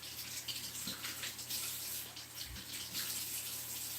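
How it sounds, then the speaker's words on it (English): Tap water runs steadily into a sink while potatoes are rinsed, a close continuous splashing hiss with small shifts as the food is moved under the stream. "even if you don't have to wash potatoes, you might want to just rinse them off a little"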